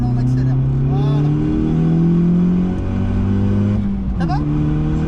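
A car accelerating during a driving lesson, its engine tone climbing smoothly as it pulls away in gear, loud and close from inside the cabin, with a brief dip and recovery near the end.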